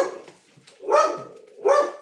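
Two loud bursts of dog barking from dogs indoors waiting to be let out, close by, each burst a rough cluster of barks separated by a short pause.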